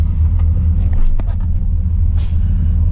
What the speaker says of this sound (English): So there's little, you know, shaking things everywhere on this truck.